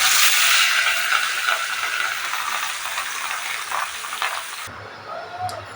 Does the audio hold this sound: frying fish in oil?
yes